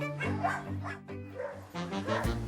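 Puppies at an abandoned-dog shelter yip and whimper in excited, overlapping bursts, with high squealing yelps and short barks coming close and loud over a couple of seconds.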